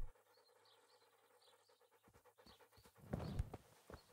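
A dog pants in the medieval role-playing video game Kingdom Come: Deliverance, a quiet, steady breathing that swells into a brief louder burst of rapid panting near the end.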